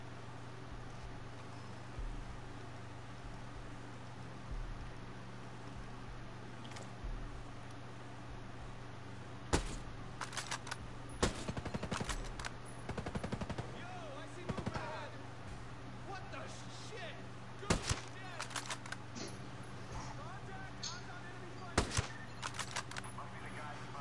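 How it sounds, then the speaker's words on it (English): Gunfire in the tactical shooter Ghost Recon Breakpoint, fired through cover: sharp bursts of shots around the middle and latter part, moderately loud over a steady hum of game ambience. "shooting someone through like cover in this game is so satisfying"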